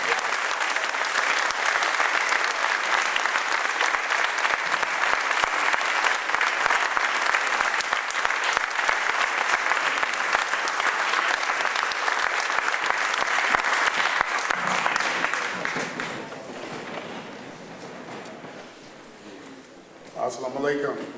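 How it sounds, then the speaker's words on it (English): Audience at a public talk gives a long, loud round of applause that holds steady, then thins and fades toward the end, with a voice briefly rising at the close. "Hafeez Muhammad with a round of applause."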